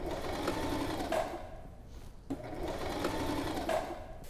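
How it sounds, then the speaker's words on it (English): A sewing machine runs a straight stitch along a fabric skirt's fold in two short bursts, a quiet, close, even mechanical whir with a brief pause between runs. "Now we're going to sew it. We're going to use the straight stitch, and we're going to catch right where the fold meets."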